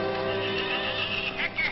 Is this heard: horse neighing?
yes